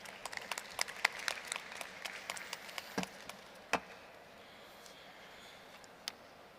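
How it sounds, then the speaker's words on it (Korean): Audience applause at a digital asset industry conference stage, a scattered, fairly light round of individual claps that thins out and fades toward the end, with a lone clap near the close. "박수 부탁드립니다."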